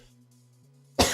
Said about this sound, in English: I have a cough in my throat right now.